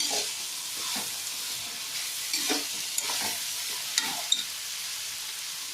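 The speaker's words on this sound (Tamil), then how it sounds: "கேரட் போட்டு நல்லா கிண்டி விட்டுட்டதுக்கப்புறமா" Carrots frying for vegetable biryani are stirred in a pan, with a steady close sizzle and occasional scraping clinks of the spoon against the pan.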